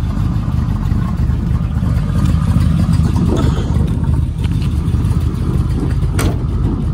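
A numbers-matching 1969 Chevrolet Camaro Z/28, not yet at operating temperature, holds a steady, loud, low rumbling idle close by, with a slight swell in engine note partway through.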